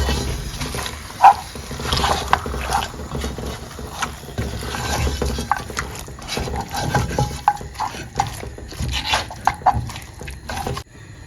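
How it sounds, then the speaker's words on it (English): Stirring cumin powder into spicy turkey in a pot, soft scraping and shuffling scrapes with occasional knocks, close and fairly quiet, continuing throughout. "Go ahead and stir everything in."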